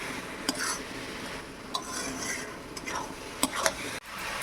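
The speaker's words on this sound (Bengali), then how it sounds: "চিনিটা গলে যেতে কতটা রস রস লাগছে, একটু নেড়ে নেড়ে আমি রসটা মেরে নেব" Sugar melting into syrup in a pan while making patishapta pitha, stirred with a utensil, giving sharp scattered clinks and scrapes of metal against the pan over a soft simmering background.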